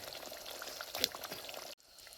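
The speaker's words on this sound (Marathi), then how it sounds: "आपण टाकू याच्यात आता मटणाचे पीसेस आता पीसेस सोडायचे आपल्याला याच्यामध्ये" Mutton pieces drop into a pot of hot gravy at an outdoor field-side cookout, giving a steady broadband sizzle with a brief splash burst in the middle before the frying noise cuts off abruptly near the end.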